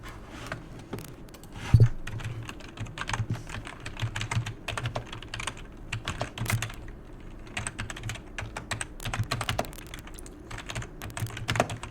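Steady typing on a computer keyboard, dense rapid clicks in an uneven rhythm that run the full length, close and moderately loud, with no voices.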